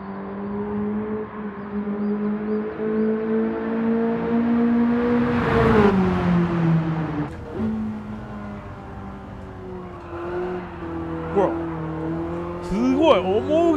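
A BMW M3 engine in Gran Turismo 7, driven sideways through a drift, revving loudly with pitch climbing then dropping, then tires squealing, with someone talking over it.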